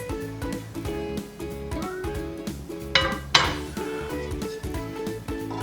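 A pot of simmered orzo with chicken sausage being uncovered and handled, metal lid and pot clanking and clinking repeatedly, close and fairly loud, with a sharper clatter partway through.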